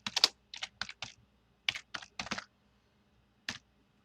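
Typing on a computer keyboard: several quick bursts of key clicks in short clusters, then a pause and one last brief burst, close and clear in a quiet room with no talking.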